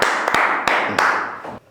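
Studio audience applause greets actor-mimic Mahesh Kunjumon at an interview before a game: a broad wash of clapping with a few sharp, distinct claps, ending abruptly.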